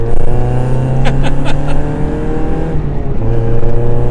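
A Mazda MX-5 Miata engine runs steadily up close, a loud, rich rumble with a steady low drone and no talking.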